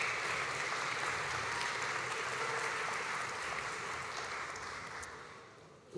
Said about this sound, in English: a round of applause for all of our arts, education and agri-tech higher education graduates tonight